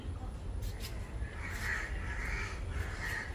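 A crow caws repeatedly in an open outdoor work area where fish is cleaned, three or four harsh calls in quick succession at moderate distance over a steady low background rumble.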